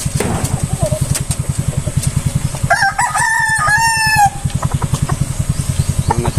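Chickens at a chicken farm, with a rooster crowing loudly and close, its long cock-a-doodle-doo rising over a steady rhythmic engine-like chugging and scattered clucks.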